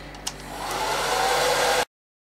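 A hand-held blow dryer drying hair, a loud steady whoosh starting after a brief click and running evenly close to the microphone before cutting off abruptly.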